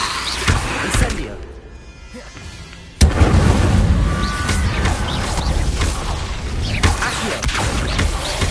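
Incendio fire spell cast in Hogwarts Legacy: a dense burst of crackling, booming impacts erupts abruptly and keeps roaring with scattered pops over a busy game soundscape, after a quieter stretch.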